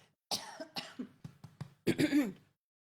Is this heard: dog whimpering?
no